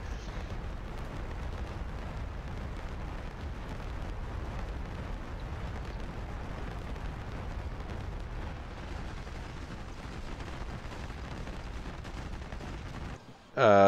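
Explosions from an air attack run in a video game rumble as a continuous heavy barrage of blasts and crackling impacts, dense and sustained, ending abruptly.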